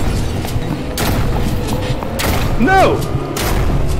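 Gunfire in the VR game Propagation comes as a few scattered heavy booms and thuds, with a panicked voice shouting over them.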